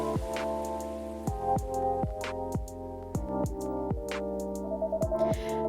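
Rain in the video game Coffee Talk 2 plays under a soft piano-like melody, with repeated gentle drips and patters falling in a loose, even rhythm.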